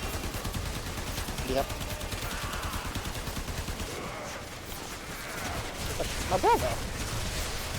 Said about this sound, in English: The random defense turrets go.